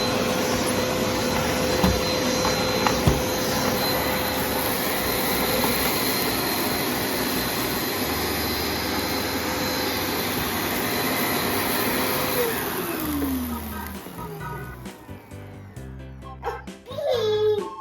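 A Tesla Aerostart vacuum cleaner runs with a steady, loud whine and roar cleaning an apartment, then winds down with a falling pitch as it switches off near the end, followed by some clattering handling noises.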